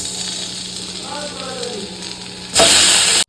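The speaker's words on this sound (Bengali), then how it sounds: "এবার কড়াইতে অল্প ঘি নিয়ে খেজুরগুলো কিন্তু আমি হালকা ফ্রাই করে নেব।" Dates lightly frying in a little ghee in a wok, with a quiet sizzle under a voice, then a sudden loud hiss that lasts about a second before cutting off.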